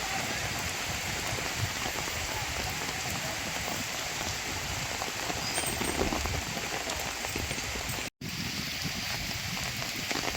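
Steady rain falls heavily and evenly, a dense hiss of drops on surfaces with a brief dropout near the end.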